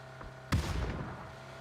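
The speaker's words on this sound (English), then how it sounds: "they threw a grenade at me" A grenade exploding in the video game PUBG, a single sharp boom followed by a short rumbling decay over quiet background hum.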